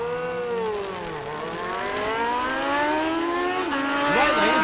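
Drag racing motorcycles, a Kawasaki among them, launch and accelerate down the strip at a race day, engine pitch climbing and shifting in repeated sweeps, a loud high whine heard from a distance.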